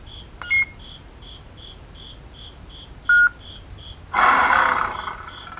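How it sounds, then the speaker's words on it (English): A dark sound font roar from a Graflex 2.0 lightsaber bursts out loud and sustained after two short beeps, over a steady high electronic pulse that repeats like a chirping tone. "And that roar tells us that we're in dark meat."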